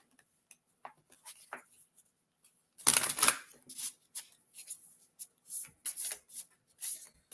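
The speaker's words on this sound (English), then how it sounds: "that was just like half the deck that just fell out" Playing cards spill loose from a deck and are gathered back in. A few soft taps lead to a burst of rustling and scattering, then steady shuffling and sliding as the cards are handled up close.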